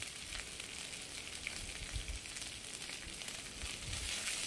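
Ginger and cumin sautéing in a little oil, a soft steady sizzle close by with a few low knocks of stirring.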